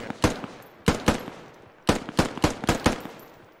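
Gunfire in the military shooter game Squad, with several loud, sharp shots in short bursts and single cracks, spaced irregularly and close by, with no talking over them.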